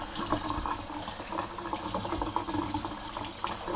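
Cold tap water runs steadily into a kitchen sink over cooked rice noodles, a continuous moderate splashing and hissing stream with small fluctuations as the flow hits the noodles.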